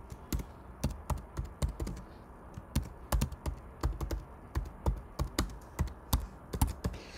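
Typing a computer password on a macOS machine: a run of crisp, irregular key taps at close range, about two dozen strokes in quick uneven bursts with short pauses, and no voice over it.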